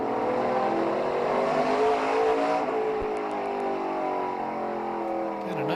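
An ARCA race car heard on board at Elko Speedway, a short 3/8-mile oval, its engine droning loud and close, with pitch rising and easing as the throttle lifts on the short straights and the car swings through the corners.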